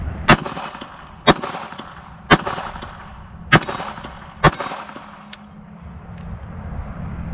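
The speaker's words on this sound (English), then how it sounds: "load a magazine up in here, try our first shot" Rifle fitted with a red dot sight firing at an outdoor range, five sharp loud gunshots spaced about a second apart, each with a trailing echo, followed by quieter handling noises.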